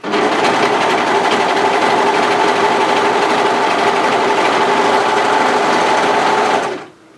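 A sewing machine stitching dress fabric runs steadily at high speed with a continuous whirring hum, close by and loud, stopping abruptly near the end.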